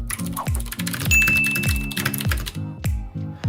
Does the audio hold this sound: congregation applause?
no